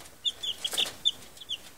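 Young chicks cluck and peep near the drinkers a spouse made from cut plastic bottles, a few short bright calls scattered over a quiet farmyard background with no talk.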